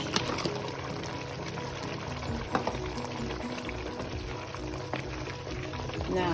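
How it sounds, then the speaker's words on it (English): Water is poured into a pot of ogbono soup, a steady splashing pour with soft sizzling and occasional clinks, heard close up in a home kitchen. "Now I'm going to add some water"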